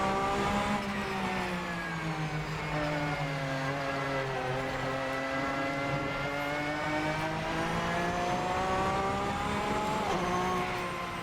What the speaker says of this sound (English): I love those upshift sounds.